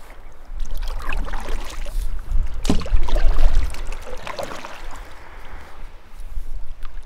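Paddle strokes dip and splash beside a Lazy Days catamaran on clear water off North Keppel Island, with trickling water and hull sloshing close by, swelling to a louder surge midway.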